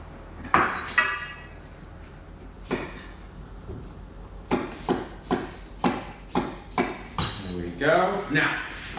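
Items are set down on a baking tray one after another, giving a run of metallic clanks and taps, with a voice heard at moments between them.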